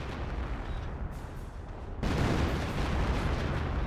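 A creeping artillery barrage in the Company of Heroes strategy game: a distant, rumbling wash of shellfire that swells abruptly partway through into a louder, sustained roar of explosions.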